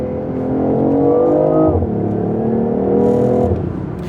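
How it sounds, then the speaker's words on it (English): A BMW i8 revved while parked, its small engine climbing in pitch with a buzzy three-cylinder-like drone, dipping and rising again, loud and close. "If you rev this thing in park, it genuinely sounds like a little like a 3-cylinder."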